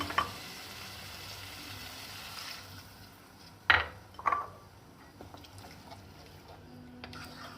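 Half a cup of water goes into a pan of sizzling green chilli potato curry, a steady frying hiss with a couple of sharper splashes and stirring scrapes midway, then quieter simmering.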